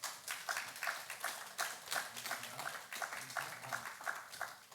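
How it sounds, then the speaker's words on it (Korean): A congregation at a Korean church service in Hawaii claps to encourage the elders, with steady, scattered applause heard faint and from a distance. "우리 격려의 박수로 한번"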